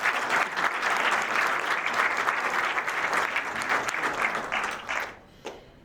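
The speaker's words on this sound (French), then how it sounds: "Vous pouvez aussi vous applaudir." Audience applause at the Graal d'Or 2025 award ceremony, thick steady clapping from a full room that holds for about five seconds, then drops off abruptly, leaving a few scattered claps.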